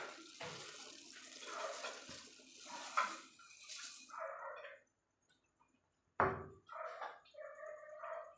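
Dry vermicelli (seviyan) tipped into a pot of boiling water for a savoury recipe, giving a close watery rushing and bubbling wash that drops away briefly, then returns with soft splashes.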